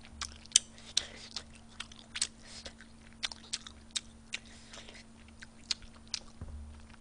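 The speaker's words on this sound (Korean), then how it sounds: "먹방은 쩝쩝이죠, 찹찹." Tteokbokki being chewed during a Korean mukbang, with close, wet smacking bites and crunches in an irregular rhythm over a faint steady hum.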